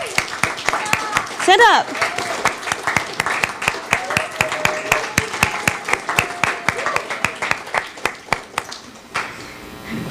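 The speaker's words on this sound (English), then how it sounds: "would everyone please give a big round of applause to our new College of Education senator" Big round of applause breaking out at a university student government senate meeting, many hands clapping in a dense, sustained wash for about ten seconds, with a brief spoken prompt to stand early on.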